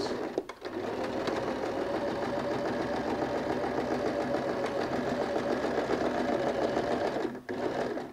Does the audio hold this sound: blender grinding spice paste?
no